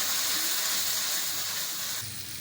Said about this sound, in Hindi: आप देख सकते हैं कि मसाला बड़े अच्छे तरीके से फ्राई हो रहा है।